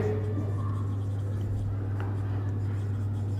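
Writing on a board during an accounts lesson gives faint scratchy strokes over a steady low electrical hum, with a few light taps, and no clear talk.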